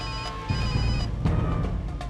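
A telephone rings in a Hindi action drama scene, right after a call is placed: a steady electronic ringing with repeated tonal pulses, fairly close and alone, with no one speaking.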